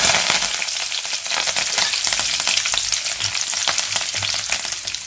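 Dried red chili and curry leaves frying in hot oil for a spicy green chili potato fry, giving a loud, steady crackling sizzle with sharp pops scattered throughout, close and continuous with no voices.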